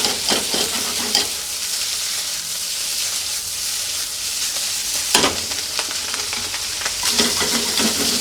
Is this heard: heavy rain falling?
no